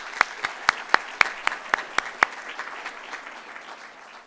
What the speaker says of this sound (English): Let's give them a round of applause initially.